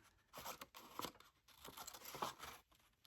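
Scissors trim paper for a handmade shabby vintage journal, giving a quiet, close series of short snips and papery scrapes over about three seconds, with no talking.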